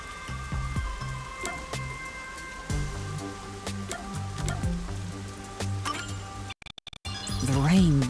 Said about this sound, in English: The rain just won't stop